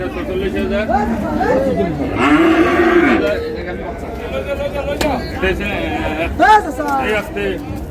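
Cows and calves low at a rural cattle market in Ranigonj, Dinajpur, several drawn-out moos rising over a busy crowd of chattering voices, with someone talking nearby throughout.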